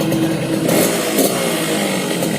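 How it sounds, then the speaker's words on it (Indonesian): A motorcycle engine on a wet carburetor setting, its exhaust not yet opened up and fitted with a filter, revs up and down in short bursts, loud and close, with a rough clattering edge. "Jadi suaranya kalau setelan basah, knalpotnya belum bedel dan sudah dibuat saringan, itu suaranya mantap"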